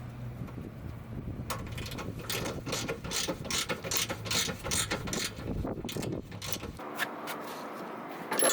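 A ratchet wrench tightens the lower control arm bolt to the frame on a Dodge Caliber during rear strut replacement, with a close run of rapid clicking pawl strokes in bursts, then stopping.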